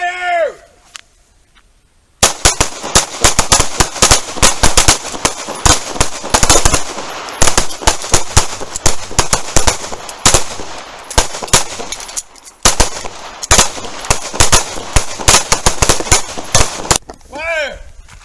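Pistols firing at a self-defense shooting range, with a rapid, loud volley of overlapping shots from several shooters that continues for about fifteen seconds, briefly pauses, then resumes, bracketed by a range officer's shouted commands.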